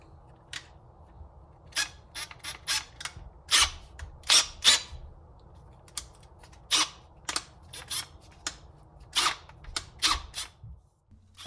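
A drill bit is pushed into the chuck of a Greenworks drill driver and the chuck is tightened, giving a run of sharp, close ratcheting clicks and clacks in irregular bursts over a quiet background.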